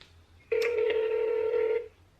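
A single ringback tone sounds on a phone line while calling a urology practice's office, one steady electronic ring lasting over a second, close and clear, with quiet before and after.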